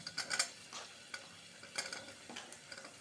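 Cooked beans and chickpeas are stirred into sautéed onions and green chillies for a side dish, with a spoon scraping and clinking in the pan over a faint sizzle. The sound is quiet and close, with irregular strokes.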